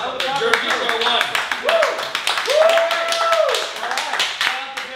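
Scattered clapping from a small group at a roast, quick uneven hand claps mixed over loud talking and raised voices, close and busy rather than a full audience ovation.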